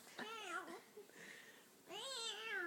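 A pet cat named Sandy gives two drawn-out meows close by, the second louder and longer, separated by a short pause with faint soft sounds in between.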